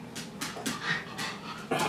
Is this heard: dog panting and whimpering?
yes